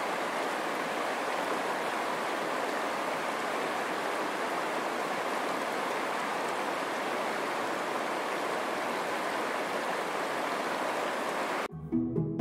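Rushing flood water pours through a flooded school, a loud, steady broadband roar like a stream running without pause before cutting off abruptly near the end.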